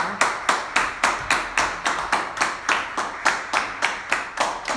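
An audience at a charity raffle event claps in a steady, even rhythm, each clap sharp and distinct, loud and close with no talking over it.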